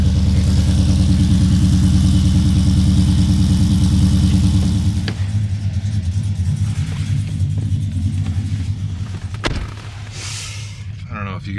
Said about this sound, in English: this is cold start, so it's gonna be a little bit loud, but it quiets way down